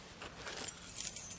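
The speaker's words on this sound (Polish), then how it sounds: "klucze." A set of keys jangles faintly in a few light metallic rattles, alone with no talk, carried on a small waist pack made by a Polish producer.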